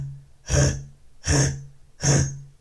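A beatboxer does Tibetan throat bass, a voice imitating a cat coughing up a hairball, as three rasping, breathy throat bursts about three quarters of a second apart, close and alone.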